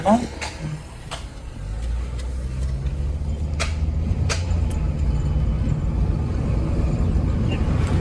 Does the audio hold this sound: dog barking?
no